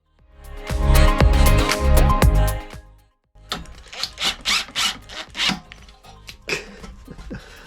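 A self-tapping screw being worked into a part on a Yamaha SR 125 scrambler build: a sustained gritty grinding, a brief pause, then a series of shorter rasping twists, close up with no talking.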